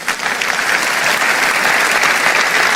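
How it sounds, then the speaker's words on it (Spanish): A church congregation bursts into loud, sustained applause during a sermon, a thick uninterrupted wash of many hands clapping close and strong for the whole stretch. "Si lo crees, dale un aplauso al Señor."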